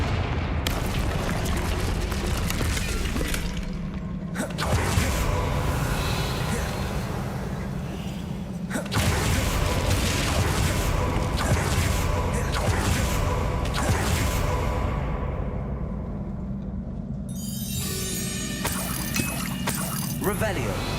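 Confringo spell blasts in the video game Hogwarts Legacy, several loud booming bursts with rumbling decay separated by brief gaps, under spoken voice.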